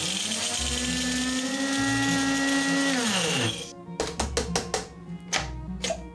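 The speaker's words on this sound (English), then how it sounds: "look at what a blade grinder does to coffee" A blade grinder chops coffee beans with a loud, steady motor whir that winds down after about three seconds, followed by a run of sharp taps and knocks as the grinder is handled.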